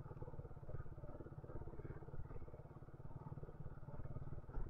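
A motorcycle engine runs steadily close by, its low throbbing firing pulses dense and continuous, loudness holding even with small surges throughout, a bike pushed through an obstacle challenge.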